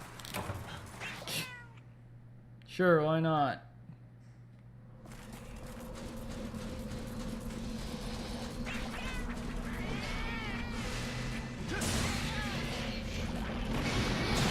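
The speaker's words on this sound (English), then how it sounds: "That poor cat." A cat meows in a Monster Hunter Generations Ultimate game, one short bright cry standing out clearly before a steady mechanical hum and game noise, with a voice speaking briefly nearby.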